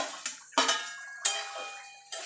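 Okra tipped into a hot pan: a few sharp metallic clatters and bursts spaced across about two seconds, each followed by a brief fading sizzle, close by.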